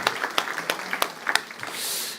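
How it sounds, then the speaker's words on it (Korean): A Korean church congregation claps in praise to God during worship: scattered individual claps at first, then swelling into a softer, broader wash of applause. "하나님께 영광의 박수 올릴까요?"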